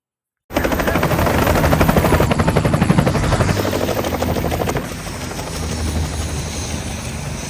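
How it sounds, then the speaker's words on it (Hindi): A helicopter arriving in a village starts up loudly and close, its rotor chopping in a fast steady rhythm, then easing slightly as the drone continues. "हेलीकॉप्टर किस समय आता है, कैसे लोग उमड़ पड़ते हैं उसे देखने के लिए"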